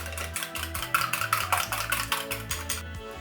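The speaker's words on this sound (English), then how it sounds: "And just continue to whisk." Egg, milk and vanilla whisked together in a bowl for Jamaican coconut rock cake, a quick rhythmic clatter of whisk against the bowl repeating steadily and close up, over a low background tone with no talking.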